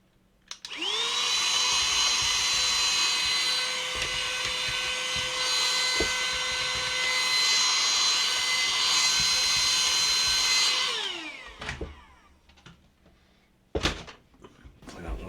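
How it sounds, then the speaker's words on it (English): Small vacuum cleaner run inside an opened Nintendo N64 console during teardown and cleaning, a loud steady whine starting abruptly, holding for about ten seconds, then winding down, followed by a few handling knocks. "I'm just going to give this a little vacuum"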